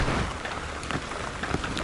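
Light drizzle falls steadily, a soft continuous patter of fine raindrops hitting surfaces nearby, even and unbroken with no voices.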